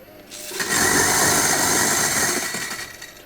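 An EK Omnia coffee grinder with 98 mm burrs grinds a dose of coffee beans, a steady loud high-pitched whir that starts abruptly, holds for about two seconds, then winds down.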